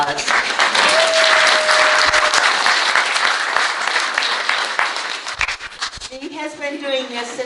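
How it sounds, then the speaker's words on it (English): Audience applauds singer Lily after her performance, a dense, steady clapping wash lasting several seconds that thins near the end as a voice begins talking over it. "Let's give Lily another round of applause"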